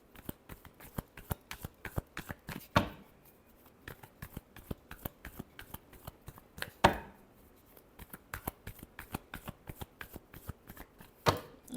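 Tarot cards being shuffled in steady, quick riffling taps, with a few louder slaps as the deck is squared, close and fairly quiet with no talking.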